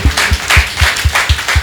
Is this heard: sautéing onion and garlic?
no